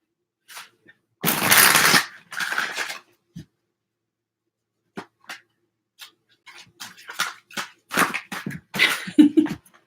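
Tarot cards being shuffled by hand in a few loud riffling bursts near the start, followed by scattered softer card flicks and taps, with brief quiet gaps between.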